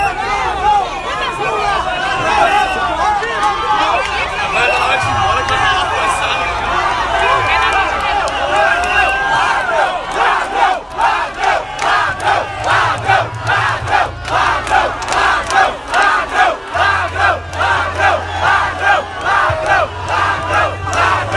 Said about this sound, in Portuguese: Ele tomou vaia e foi chamado de ladrão ao chegar no evento.